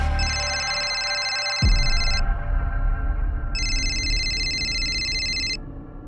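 A telephone rings in a Crime Patrol TV serial, two clear bursts of electronic ringing separated by a pause, loud and close over a low background hum.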